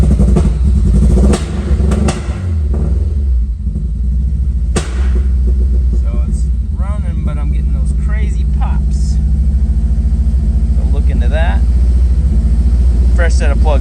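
A tuned Honda S2000 project car's engine idles with a deep, steady rumble close by, swelling in a few brief revs, while people talk over it and a couple of sharp clanks ring out.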